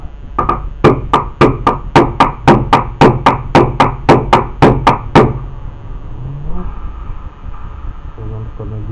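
A sledgehammer strikes a water pump belt tensioner pulley in about fourteen sharp, evenly spaced metallic blows, loud and close. The blows then stop, leaving quieter handling and scraping noises.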